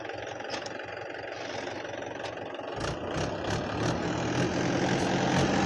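Tractor engine running under load in third gear, a steady close rumble that swells and grows louder partway through, with no talk over it.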